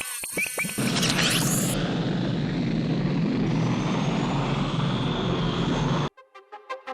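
A BD-5J small jet aircraft flies past with a loud, broad roaring rush that holds steady for several seconds, followed after a sudden cut by faint tonal pulses.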